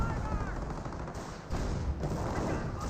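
Dense, continuous gunfire from a Company of Heroes battle, with rapid machine-gun bursts, repeated shots and heavier booms layered into a loud, busy wartime din.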